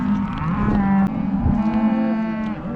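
Cattle on a Montana cattle drive let out a loud, close, drawn-out moo, with another bellow following, and no talking.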